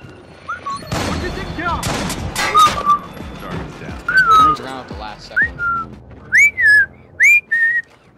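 A player character in Splinter Cell: Blacklist whistles to a guard, several clear short whistled notes, some rising and sliding, between bursts of game action and gunfire-like impacts.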